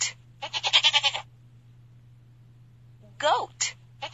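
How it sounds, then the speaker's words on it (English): A goat bleats in a children's animal puzzle game, a wavering cartoonish call of several rapid pulses followed by a shorter second bleat, with a steady low hum beneath. "Goat."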